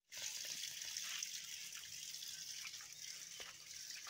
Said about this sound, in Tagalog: Nagigib kami ng tubig ngayon oh.